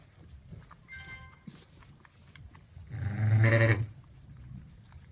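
A lamb and its ewe bleating on a farm during lambing season, with a soft early bleat followed by one loud, close, sustained bleat over low background rustling.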